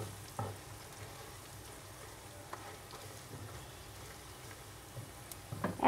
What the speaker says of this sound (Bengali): দিয়ে পেঁয়াজের সাথে একটু ভেজে নিব